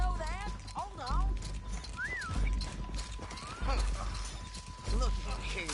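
Horses in the Western game Red Dead Redemption 2 gallop with heavy rhythmic hoofbeats and let out several shrill whinnies and neighs, close and loud, with someone talking over them.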